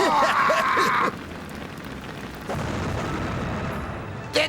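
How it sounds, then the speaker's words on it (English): Cartoon fireworks display bursting, with a loud, dense crackling blast at the start, a fizzing lull, then a second sustained rumbling volley and a sharp pop near the end, heard without speech. "They even put on a firework display for it."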